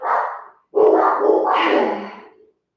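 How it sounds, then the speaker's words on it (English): Dogs barking at something outside in two bursts, a short bark then a longer overlapping run of barks, fairly loud and slightly muffled as if through a wall or door. "Toby and Bruno barking at something outside"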